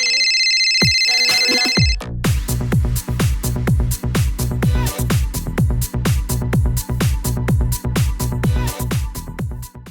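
An incoming call sets off a mobile phone ringtone: a short electronic tone at first, then a loud, rhythmic melodic ring repeating steadily and close by, with no speech.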